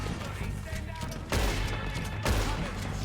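Gunfire in Red Dead Redemption 2: two loud, booming shots about a second apart, each with a long rumbling tail, heard over a dense game soundscape.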